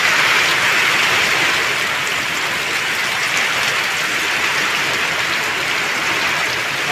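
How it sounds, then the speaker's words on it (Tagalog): Heavy typhoon rain pours down in a dense, steady hiss with no letup, loud and close. "pag medyo minahina yung ulan. Talaga, lakas talaga yun."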